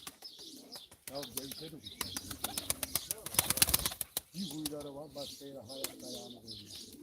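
Pigeons at a live pigeon auction give soft coos and bursts of wing flapping, mixed in with someone talking loudly and steadily nearby.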